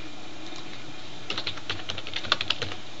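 A password is typed on a computer keyboard after a quiet pause, a quick run of light, close key clicks in an uneven rhythm with no talking.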